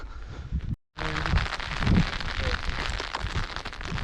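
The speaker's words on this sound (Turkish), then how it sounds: "Yağmur başladı." Steady rain falls outdoors at a mountain camp near Karagöl in the Bolkar Mountains, a dense hiss of drops on surfaces, briefly cut off near the start, with faint voices in the background.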